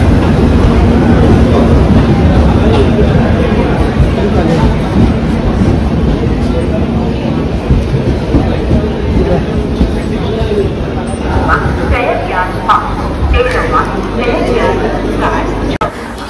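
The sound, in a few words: train passing through a station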